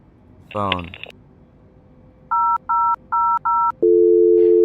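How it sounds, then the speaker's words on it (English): A phone being dialed in Microsoft Flight Simulator: a quick rising electronic chirp, then four evenly spaced keypad beeps, followed by a steady loud tone, clean and close. "Phone."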